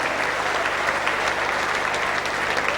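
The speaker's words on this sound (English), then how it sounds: "So let's give him a big round of applause" Crowd applause for a fighter at a combat sports event, dense and loud sustained clapping filling the whole moment with no voice over it.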